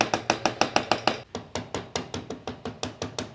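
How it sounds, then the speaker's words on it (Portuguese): A mallet strikes a glued wooden joint, driving the piece home in a sawn woodworking fitting: a dozen or so close, crisp knocks in a steady quick rhythm, a little duller and softer after a brief pause. "Vou batendo com o macete com cuidado."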